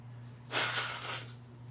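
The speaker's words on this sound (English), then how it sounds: "I have to blow my nose just a second." A person blows their nose once in a short, fairly loud burst of about three-quarters of a second, between quiet stretches over a steady low electrical hum.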